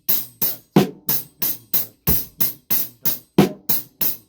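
A drum kit plays a steady sixteenth-note pattern, with regular crisp cymbal-like strikes and heavier bass drum hits landing on beats one and three, close and clear with no talking.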